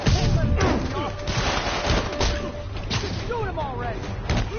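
Rapid bursts of gunfire in the Spider-Man video game, repeated volleys and thuds layered over a dense, loud action mix with voices throughout.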